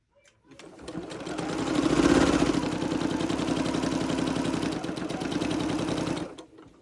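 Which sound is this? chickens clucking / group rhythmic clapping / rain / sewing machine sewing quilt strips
sewing machine sewing quilt strips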